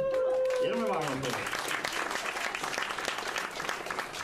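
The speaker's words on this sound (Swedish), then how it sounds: "Ge dem en varm applåd." Warm audience applause fills a jazz recital hall, starting just as a sustained musical note fades and continuing as dense, steady clapping from a sizeable crowd for several seconds.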